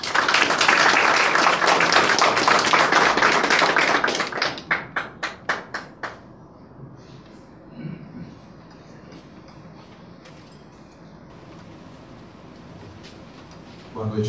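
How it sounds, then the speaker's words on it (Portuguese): An audience at a Brazilian lecture event on cyber security and big data applauds to welcome a speaker, several seconds of loud sustained clapping that breaks into scattered claps and fades into room quiet. "eu gostaria de pedir com uma salva de palmas aqui a presença do Dr. Eduardo Jabur."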